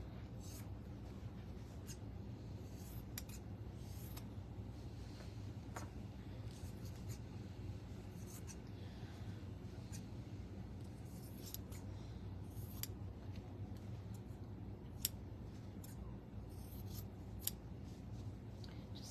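Scissors trim fabric close to the stitches of an in-the-hoop embroidered stuffed toy, a long run of soft, close snips and rustling over a faint steady hum.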